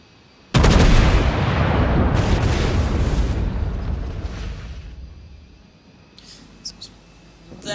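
North Carolina battleship in a naval video game firing a full broadside: one sudden, very loud blast of the salvo followed by a long rumbling roar that slowly fades over several seconds, with faint interface blips near the end.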